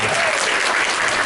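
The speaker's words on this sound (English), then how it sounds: "Can I get a round of applause for your senior class administrator" Audience applause at a school senior parent night in spring 2024, thanking the senior class administrator: dense, steady clapping that stays loud and close across the whole short clip, with no talk over it.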